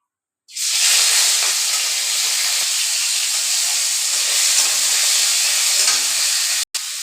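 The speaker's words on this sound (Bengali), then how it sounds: "মাছখিনি আগতে ফ্ৰাই কৰি ল'ম" Fish frying in hot oil bursts into a loud, continuous sizzle that starts suddenly and holds steady and close for several seconds, with a brief break near the end and no voices.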